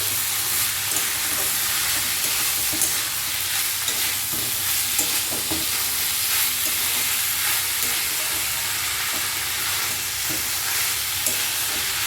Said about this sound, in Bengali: সেই মোচাটা দিয়ে দিলাম এবার মশলার সাথে খুব ভালো করে মিশিয়ে নেবো মোচাটাকে